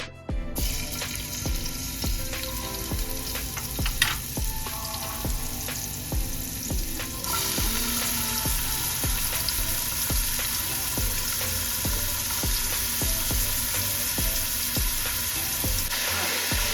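Onion and garlic hit hot oil in a pan for birria tacos, a bright continuous sizzle that swells after a few seconds, with occasional utensil clinks over the crackling.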